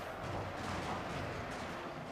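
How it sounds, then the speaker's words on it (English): Cannons in a video game siege battle of Osaka boom in a dense, rumbling barrage that blends into a continuous roar of fire and explosions. "So I have my my cannons now working away, doing the business"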